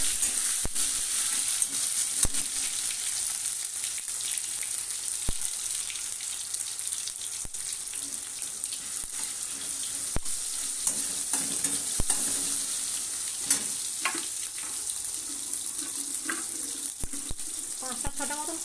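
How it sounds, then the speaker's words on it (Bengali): Chopped tomato frying in a pan for an egg and eggplant curry, a soft steady sizzle with occasional stirring clicks and scrapes, fairly quiet and continuous. "টমেটো কুচিটা একটু হালকা করে ভেজে নেবো।"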